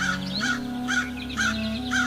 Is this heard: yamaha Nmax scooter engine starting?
no